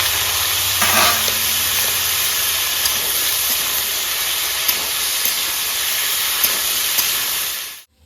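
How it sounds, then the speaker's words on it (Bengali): Cut, washed potatoes drop into hot oil in a pan and set off a loud, steady sizzling hiss that holds throughout, with a few faint pops and scrapes before it cuts off. "এবার তেলটা দিয়ে দেবো গরম হয়ে গেছে কেটে ধুয়ে রাখা আলুগুলো দিয়ে দেবো"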